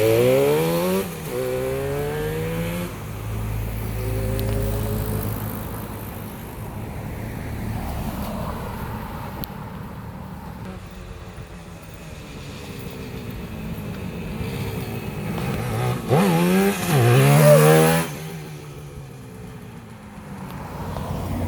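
A vintage motorcycle engine idles and revs in a rough, buzzing drone, close and loud, rising sharply near the end before settling back, with no talk over it.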